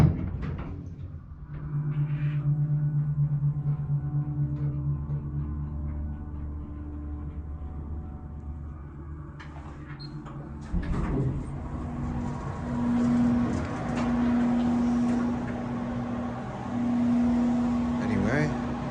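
A 1983 Montgomery hydraulic elevator riding at the Golden Center in Golden, Colorado: a low steady machine hum plays, then a mid-ride shift with door-like movement, followed by continuing hum and repeated tonal signals.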